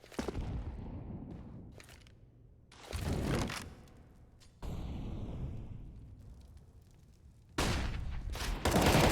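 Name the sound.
gunfight gunfire in Counter-Strike on the Mirage map, from a video game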